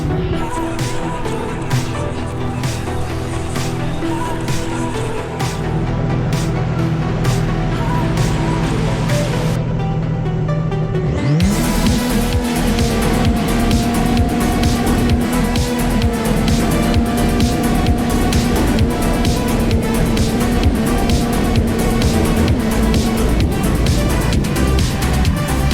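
A Sea-Doo EP2 Pro-Spec class jet ski launches in a drag race at the 2023 Hydrodrags: a low idling rumble, then a sudden surge to a loud, sustained high-revving whine that holds steady for about fifteen seconds.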